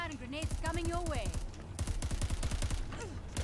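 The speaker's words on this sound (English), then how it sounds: "More gunfire and grenades coming your way." Rapid bursts of automatic gunfire and explosions crackle from a firefight in the video game Crackdown 3, loud and dense throughout, with a voice partly audible over the shooting.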